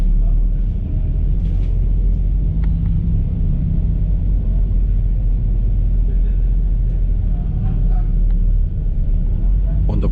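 Steady low engine rumble and road noise inside a moving TransJakarta double-decker tour bus in Jakarta, constant and loud, with someone talking over it throughout.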